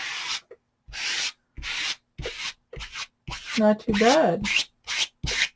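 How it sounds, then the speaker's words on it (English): Rhythmic rasping scrapes of a card spreading Odicoat across a fabric rain hat, about nine short, close strokes with silent gaps, and a brief spoken remark midway. "So I just dip the card in there, and you just scrape it on."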